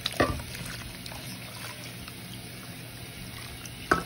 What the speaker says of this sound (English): let's go ahead and add the water